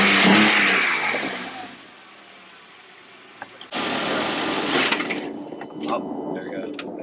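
A Jeep engine with its air cleaner hose pulled off fires up and revs, loud and rough, with a burst of higher revving partway through and people talking nearby over the running motor.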